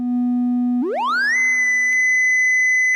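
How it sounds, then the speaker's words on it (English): A Kaestle synth module's sine wave output on an AE Modular system, with light reverb: a steady low pure tone that abruptly sweeps upward into a higher sustained whistle, loud and alone. "let's just take the sine wave output"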